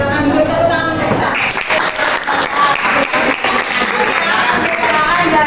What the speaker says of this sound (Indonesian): Silakan dulu tepuk tangan Desa.